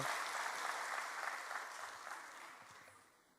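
A church congregation applauds during a Sunday service, a broad wash of many hands clapping that is faint and gradually dies away.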